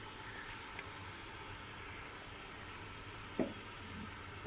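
Ghee hits mashed carrots in a pan for carrot halwa, giving a faint, steady sizzle with one small clatter near the end and no talking.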